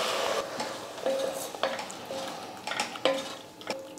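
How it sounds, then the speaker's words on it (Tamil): Chana dal is added to a metal cooking pot, with repeated scraping, clinking and stirring against the vessel over a soft background hiss. "இந்த கடலைப்பருப்பு இதை சேர்த்துறேன்."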